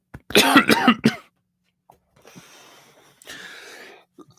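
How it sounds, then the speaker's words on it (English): A fit of coughing close to a microphone, a quick cluster of harsh coughs followed by quieter throat clearing and raspy breaths. "just don't want to cough right into the mic."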